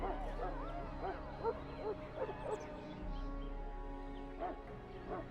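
Mabari war hound from the game Dragon Age Origins giving a run of short, soft barks and yips over a steady low game hum, with a few whimpering notes near the end.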